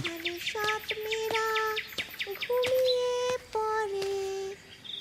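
A bird sings clear, whistled notes in short repeated phrases, some sliding in pitch, with a faint insect-like buzz in the background.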